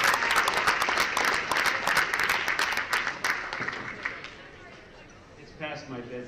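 Banquet audience applauding at the Iron Dog snowmobile race event, a dense wash of clapping that is loud at first and gradually thins and fades, with a voice starting to speak near the end.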